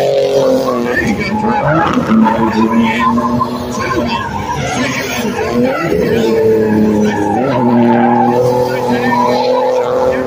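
A C3 drift rod with an oversized spoiler slides through a turn at a drift event, its engine revving in rising and falling sweeps over a steady tire-skid roar, with a voice heard over it throughout.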